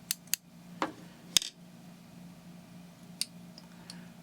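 Scissors snip excess thread while a Miramichi Special fly is tied, giving a few faint, sharp clicks and snips scattered over a quiet background hum.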